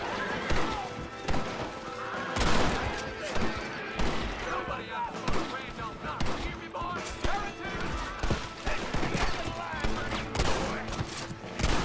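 Gunfire rattles through a Red Dead Redemption firefight, rapid shots cracking in bursts and repeated sharp reports over about twelve seconds, with a horse whinnying amid the shooting.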